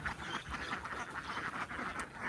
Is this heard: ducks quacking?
yes